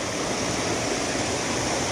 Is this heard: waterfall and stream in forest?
yes